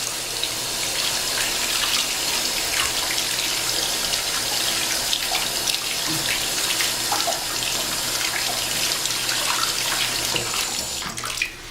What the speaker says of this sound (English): I'm using lukewarm water.